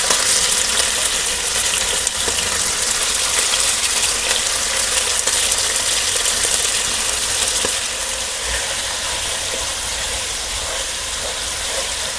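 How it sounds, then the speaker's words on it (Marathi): Marinated chicken pieces fry in hot oil for butter chicken, a dense, continuous sizzle and crackle filling the whole stretch, loud and close, fading slightly toward the end with no talking. "ऑइल ऑलरेडी गरम झालेलं आहे. तर ह्यात आपण चिकनचे जे मॅरिनेट केलेले पीसेस होते ते टाकणार आहोत."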